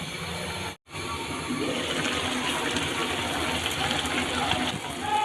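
Water gushes steadily into a pot of partly cooked meat, a continuous close rushing pour that runs almost unbroken after a brief pause near the start.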